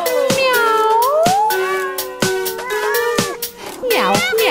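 A sung cat meow in a Lithuanian children's Halloween song: several drawn-out, gliding meow notes, loud and close, with a voice imitating the cat over a light musical backing.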